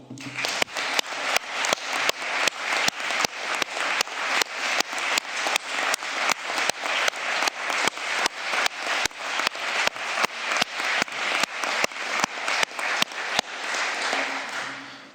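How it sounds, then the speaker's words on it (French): An audience at the final of a French lawyers' speaking competition breaks into loud, rhythmic synchronized applause after the results are announced, with evenly spaced clapping that carries on steadily for the whole stretch. "les applaudissements ne s'arrêtent pas"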